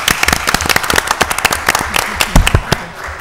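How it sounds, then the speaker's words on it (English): Applause at a city council meeting, a loose, uneven burst of sharp individual claps from a modest crowd, close and loud, thinning out toward the end. "let's give her a big round of applause"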